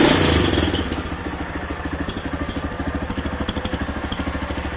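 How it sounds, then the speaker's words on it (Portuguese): A 2008 Honda Titan 150 motorcycle fitted with a 160 engine and a spliced 160-to-150 exhaust starts with a loud burst, then settles into a close, steady, rhythmic idle with a pulsing, slightly clattery beat. "Vamos ligar a motinha."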